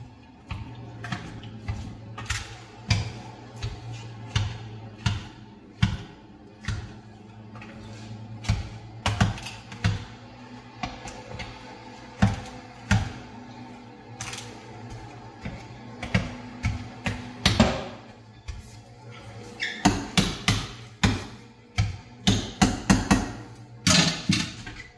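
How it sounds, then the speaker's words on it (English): Boiled potatoes being mashed down by hand, a long run of irregular close thumps and knocks that grows busier and louder toward the end, with no talk. "And then we mash it down."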